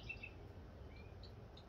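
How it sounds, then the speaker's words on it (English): A purple finch gives a few faint, thin chirps far off in the background over steady low outdoor hum, with no talking. "See the sound of the purple finch in the background?"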